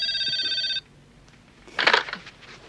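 A telephone bell rings in one short, bright burst and then cuts off, followed by a brief rustling clatter nearby.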